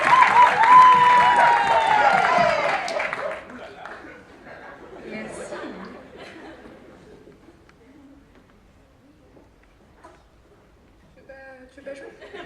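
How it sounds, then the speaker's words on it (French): A show audience applauds a performer named Jenny, with clapping and cheering voices for about three seconds, then the noise drops away to faint scattered chatter and a few quiet sounds. "On applaudit tous Jenny qui va venir interpréter"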